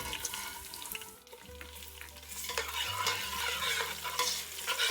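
Onions sizzle and crackle steadily in hot oil while making biryani, with a close stirring scrape and occasional clinks from a utensil, and no voices.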